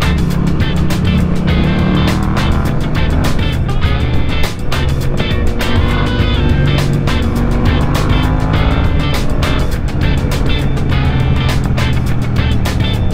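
A BMW S1000RR sport motorcycle engine roars close and loud, holding a continuous high-revving drone with dense rapid pulses throughout.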